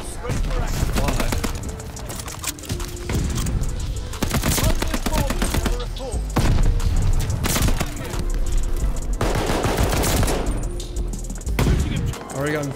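NZ-41 rifle fire in Call of Duty Vanguard, repeated loud bursts of rapid automatic shots with brief gaps between them, near and dominant, with a voice talking underneath.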